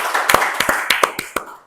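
An audience claps for Pak Heldy in a short, scattered burst: about eight crisp, fairly evenly spaced claps, close and clear, with no talking over them.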